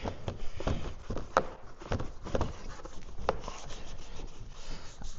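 A sponge scrubs moss off a 1997 Polaris XCR snowmobile, giving steady, close, rhythmic rubbing strokes with soft scraping, and no talk.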